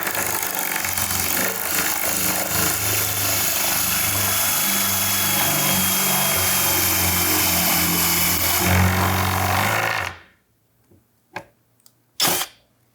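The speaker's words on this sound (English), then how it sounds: "So it did, in fact, cut that tapered plug." A drill driver accessory cuts a tapered wooden plug, a loud, steady whirring drone lasting about ten seconds before stopping abruptly, followed by a few brief knocks and clunks in near silence.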